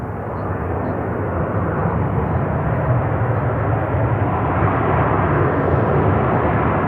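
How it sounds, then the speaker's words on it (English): An Airbus A321 airliner arriving from Cancun at Charlotte airport gives a loud, steady, broadband jet roar that swells slightly over several seconds, with no voices. "This one is a 321 coming in from Cancun in Mexico."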